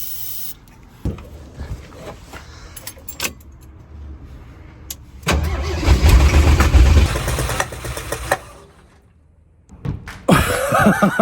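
An old carbureted Jeep truck engine, unrun since around the 1990s, cranks, sputters and catches, then runs roughly with a loud rumbling idle before cutting out and restarting.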